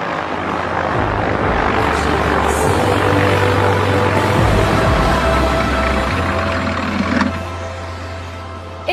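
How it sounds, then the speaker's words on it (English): A large Airbus Beluga cargo aircraft taxis toward a parking apron, its engines giving a loud, steady roar with a low drone that eases off near the end. "You're parking on apron Bravo with the Beluga."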